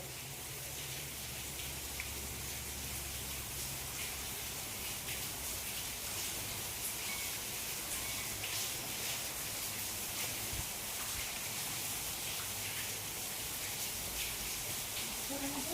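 Steady monsoon rain falls without pause, a dense even hiss of drops on surfaces at constant loudness throughout, with a faint low rumble beneath.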